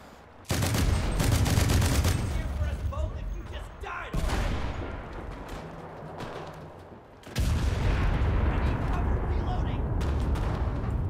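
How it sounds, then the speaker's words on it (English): Gunfire in the Enlisted Pacific War campaign: loud, dense bursts of rifle and machine-gun shots fill most of the stretch, broken by a brief lull before heavy firing resumes, with a voice talking over it. "where are these shots coming from?"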